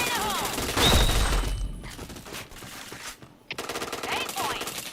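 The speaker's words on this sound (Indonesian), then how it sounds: "kau lihat pelurunya tuh nggak goyang, Gus. Kayak nge-recoil kayak gitu loh" Loud automatic gunfire in a first-person shooter game, rapid bursts with echoing tails and game effects, heard up close alongside voices talking.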